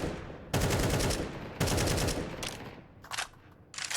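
Rapid bursts of gunfire spammed through a wall in Counter-Strike 2 during a professional match, two long loud volleys followed by shorter, quieter bursts, sharp and close.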